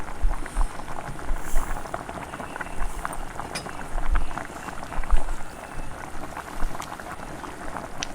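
Vegetable kurma curry boiling in a pot, a close, uneven bubbling and popping that rises and falls in small bursts without pause.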